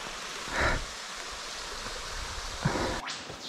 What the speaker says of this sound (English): it seems like there's another cascade here, a waterfall, roughly the same size